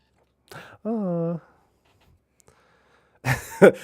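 A cat lets out a single drawn-out meow, close and clear, followed by a quiet pause and then a burst of noisy breathy sound.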